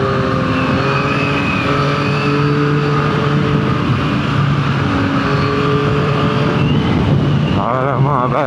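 A 2024 Yamaha MT-09 motorcycle being ridden, a loud close engine note holding steady with gear-shift pitch steps and a rising rev near the end, heard from the rider's position under wind noise.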